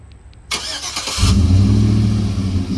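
A 2013 Chevrolet Avalanche LT 1500 fires up by remote start: a short cranking burst, then the engine catches and settles into a loud, steady idle close by.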